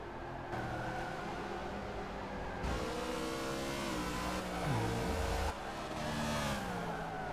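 Race cars in Forza Motorsport 6 drive through a corner, engines revving and shifting pitch continuously, loud and close with several cars layered together and brief surges.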